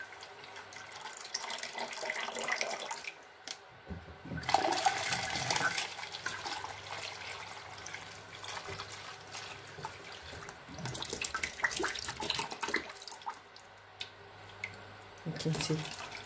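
Soaked garri is washed under running tap water, which splashes and gushes in bursts of varying loudness while a person talks.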